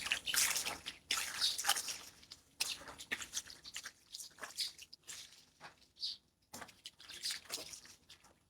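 Laundry being scrubbed by hand with water before going into a washing machine, giving wet sloshing, dripping and rubbing noises in uneven bursts, close up and fairly quiet.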